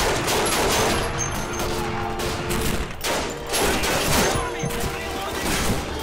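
Dense, rapid gunfire from several weapons in Call of Duty 2 with the Back2Fronts mod, close and loud, keeps going for several seconds as a fusillade that nearly fills the whole stretch.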